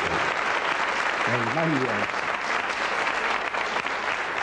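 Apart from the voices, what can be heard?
studio audience applause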